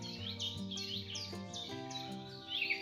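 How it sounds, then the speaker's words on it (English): Recorded bird sounds from a baby night light's wake-up function, a series of bright repeated chirps and tweets over a soft steady tone, fairly quiet and close. "And then I have another function for wake up, which is blue, and it has bird sounds."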